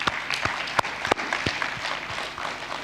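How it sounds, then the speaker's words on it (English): Audience at a 2022 Africa–Caribbean trade and investment forum giving a round of applause, a dense wash of many hands with a few sharper claps standing out, steady and fairly loud for a few seconds with no voices over it. "I think you need to give yourselves a round of applause as well"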